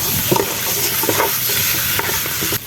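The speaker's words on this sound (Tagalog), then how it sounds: "Pagka okay na yung ginigisan ninyo, igisan nyo rin yung karne." Beef for Filipino pares is sautéed in a pan. Close, loud sizzling carries repeated stirring scrapes throughout, and no voices are heard.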